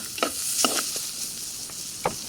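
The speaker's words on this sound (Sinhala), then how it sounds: "ඊට පස්සේ ඒ ටිකත් හොඳට මේ විදිහට කලවම් කරනවා" Chopped tomatoes are stirred with onions and garlic in a hot pan for egg curry, a steady sizzle broken by a few soft spoon scrapes, close and clear, with no talk.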